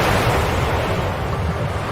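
Tsunami waves crash on shore in a disaster-education animation, a loud continuous roar of surging water and noise with no break.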